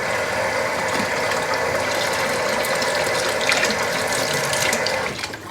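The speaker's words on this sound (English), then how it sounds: "I'll put like this much water in it, enough to fill the pendant, like enough to cover the pendant up" Water pours steadily into a glass jar to cover a copper pendant for oxidizing, a continuous splashing trickle that stays close and fairly loud, then tapers off at the end.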